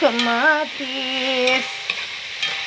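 Tomato stirred into a sizzling frying pan for pinakbet, a steady frying hiss with spoon scrapes, and a brief rising and falling tonal sound near the start.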